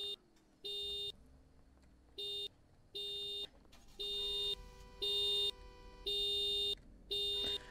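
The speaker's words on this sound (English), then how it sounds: "Oh wow, I gotta have to make the alarm shut up." An alarm in the Roblox game Greenville buzzes in repeated electronic bursts, steady tones switching on and off in an uneven rhythm over a low background hum, loud and close.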